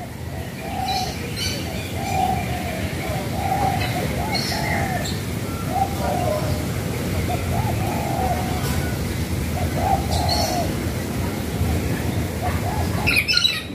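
Several birds call at a zoo aviary in Surabaya, with repeated soft cooing notes and scattered chirps sounding steadily over a busy background murmur for the whole stretch.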